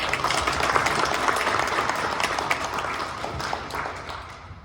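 An audience at a 2024 town hall meeting claps steadily together, a dense, even wash of applause that holds at a constant level before thinning slightly at the end.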